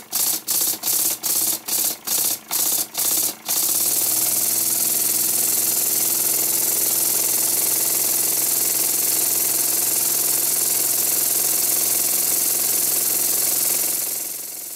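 An old Stuart S50 model steam engine running on compressed air chuffs in evenly spaced puffs that speed up into a continuous, loud, rapid hiss-like rush that holds steady.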